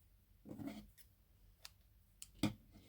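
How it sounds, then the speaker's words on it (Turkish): Scissors snipping knitting yarn: a soft rustle of handling, then a few sharp, quiet snips and clicks spaced apart, close by in a quiet room. "Hemen buradan birazcık ip keseceğim."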